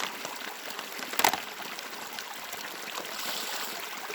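Water pouring and trickling out of a compact lightweight water-carrying pouch in the field, a soft steady outdoor dribble with one brief louder splash.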